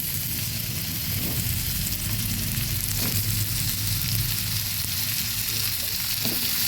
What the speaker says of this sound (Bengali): ডিম ভাজা কড়াইটার মধ্যে দিয়ে দেব চিচিঙ্গাগুলো